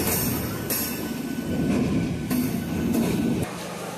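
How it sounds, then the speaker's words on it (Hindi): A train pulls into Prayagraj Rambagh station with a loud, close rumble of wheels on rails, sharp clanks at the rail joints and faint squealing, steady throughout with no talking. "अभी आई ट्रेन पूरा 50 मिनट में अभी निकल जाएगी"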